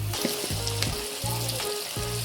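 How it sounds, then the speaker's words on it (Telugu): Onions and tomatoes fry in oil for a chicken-skin gongura curry, giving a continuous close sizzle broken by several rhythmic stirring scrapes. "ఇట్లా బాగా వేగాలి."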